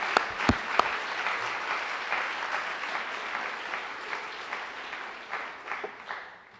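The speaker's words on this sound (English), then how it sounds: "We can applaud for that, right?" A crowd at a presidential candidate's leadership forum breaks into applause, opening with a few sharp individual claps, then a full round that slowly fades toward the end.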